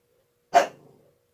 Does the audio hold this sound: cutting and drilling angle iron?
no